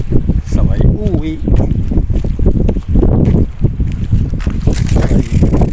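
Strong wind roars and buffets the microphone out on the water near Al Reem Island, Abu Dhabi, during squid fishing, loud and continuous, with someone talking over it.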